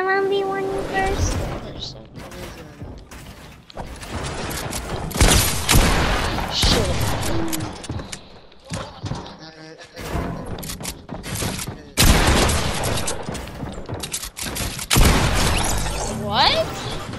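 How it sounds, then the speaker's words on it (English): Repeated loud bursts of gunfire and sharp impacts in a video game, coming in clusters with brief pauses, mixed with players talking throughout. "Wait, you shot me through the wall"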